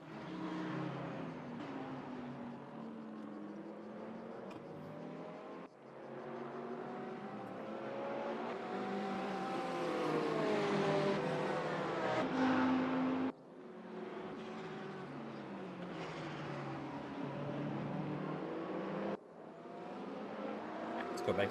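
V8 race car engines in a racing video game at the Portimao circuit, a continuous loud roar with rising and falling revs and shifts, the note briefly cutting out and resuming, with a commentator talking over it.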